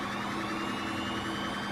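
Police-escorted ambulance siren in GTA V, wailing steadily and loudly throughout, with a sustained tonal howl over a busy game soundscape and no talk.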